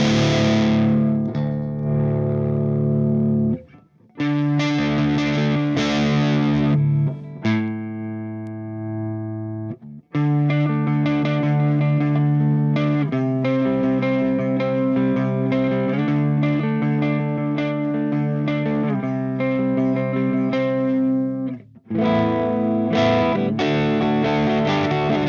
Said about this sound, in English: Still, I can hear the girth, I can hear the harshness on the background, but it's a nice clean tone.